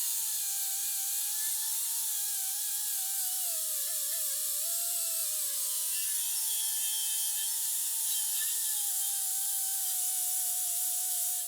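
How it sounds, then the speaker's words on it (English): A rusted engine bay bracket from a rare twin-turbo BMW is sanded down, giving a steady, close abrasive hiss with a slightly wavering whine running underneath for the whole stretch, alone and without speech. "I've sanded it down"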